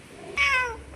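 A house cat gives one clear, close meow that rises and then falls, lasting under a second against a quiet indoor background.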